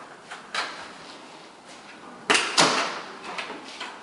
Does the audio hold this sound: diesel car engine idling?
no